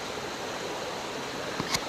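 A river in Oregon flows with a soft, continuous broadband wash of water, faint and even, with a couple of small splashes near the end and no talking.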